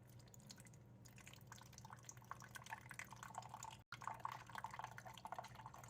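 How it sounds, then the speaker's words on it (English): Water being poured into a compartmented container holding ice chunks, a faint, continuous trickling and dripping with a short break partway through. "Pour remaining water to fill up all the compartments."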